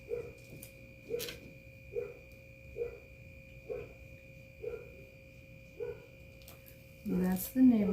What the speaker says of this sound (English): That's the neighbor dog saying hi to everybody and all the doggies in the neighborhood.